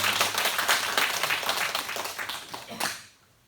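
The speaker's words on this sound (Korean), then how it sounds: "우리 하나님 앞에 먼저 감사의 박수 한번 들렸으면 좋겠습니다" A church congregation at a harvest thanksgiving service gives a short burst of dense applause, which fades out after about three seconds.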